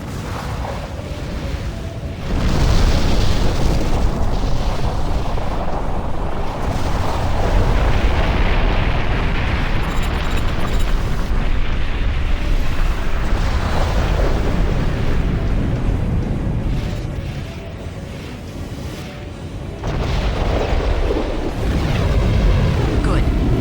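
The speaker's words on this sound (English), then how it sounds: "Those cannons will rip you to shreds. Focus on evading their fire." Heavy cannon fire and explosions in the video game Armored Core For Answer, a continuous roaring rumble of blasts and booms that swells and dips. Voices speak over the battle noise.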